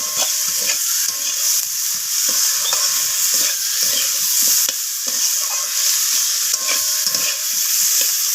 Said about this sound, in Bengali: তো সমস্ত কিছু আবারও নাড়াচাড়া করে আমি কষিয়ে নিচ্ছি।